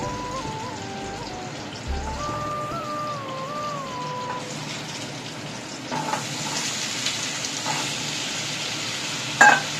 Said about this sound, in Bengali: আলুগুলো এবার এই ভাজার জন্য দিয়ে দিলাম